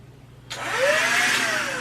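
A small handheld vacuum starts abruptly and runs with a loud, steady whine and rising pitch as it sucks up a horsefly indoors; no talking.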